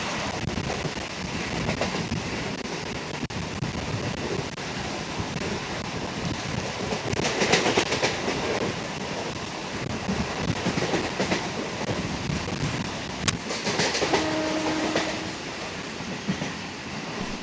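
A Sealdah–Dankuni local train rumbles on the rails at speed, a continuous loud roar with brief rattling bursts and a short horn-like tone near the end.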